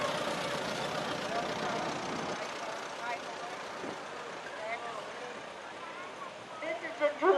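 Faint, low idle of an antique Farmall H tractor at an outdoor parade, rumbling steadily beneath someone talking over it, with crowd and outdoor noise around.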